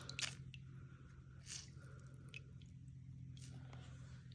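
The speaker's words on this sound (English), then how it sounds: "it's time to take it out of the water and squeeze as much water as you can out." A wet lace shawl being squeezed of its water by hand: quiet, close squishing and dripping in a few soft bursts over a low steady background hum.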